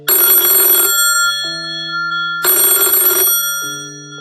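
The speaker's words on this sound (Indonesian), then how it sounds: "telepon di ruang administrasi berbunyi" An old-style telephone bell rings in a hospital administration room, two loud clanging bursts separated by a lingering ringing tone, close and clear with no talking.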